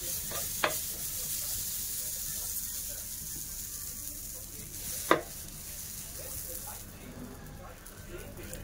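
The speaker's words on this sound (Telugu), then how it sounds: "ఇప్పుడు టిఫిన్ చేయడానికి దిబ్బరొట్టి వేస్తున్నానండి." Dibba rotti, a thick lentil-rice batter flatbread, cooks on a pan in a home kitchen, with a low steady sizzle, a couple of sharp clicks or knocks against the pan, and some faint talk mixed in.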